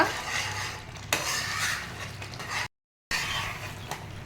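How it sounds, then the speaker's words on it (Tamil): Thick carrot halwa being stirred in a pan, a steady close scraping and churning that runs continuously, broken by one brief silent gap before resuming. "இப்போது இந்த கேரட்டை கைவிடாமல் கிளறிட்டே இருங்க"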